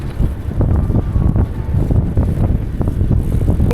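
Strong headwind buffets the microphone while cycling on an Australian road, a continuous loud, gusty rumble with no voices.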